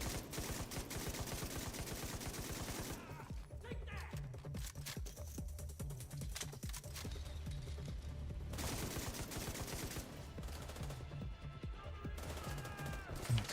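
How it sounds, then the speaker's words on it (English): Video game gunfire in rapid automatic bursts, loud dense rattling that pauses briefly and resumes, with scattered single shots and some speech mixed in. "Who is shooting at me?"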